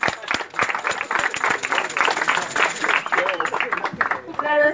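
Guests at a quinceañera rose ceremony clap in a busy, steady patter under a voice that keeps speaking, and the clapping stays loud throughout.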